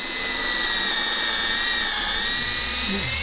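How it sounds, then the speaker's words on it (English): A power drill drilling holes whines loudly and continuously at high speed, a steady piercing motor tone held throughout without pause. "I'm going to carefully drill right in the center and to the prescribed depth"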